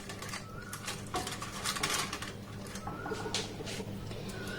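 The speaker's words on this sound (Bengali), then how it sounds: "এবার এই বাটিটাকে আমি এই কড়ার মধ্যে বসিয়ে দিলাম" Steel bowl of sweet yogurt set down into a metal wok with a little water on the stove, giving brief clinking metal-on-metal contacts and light scraping, fairly close, with no talking.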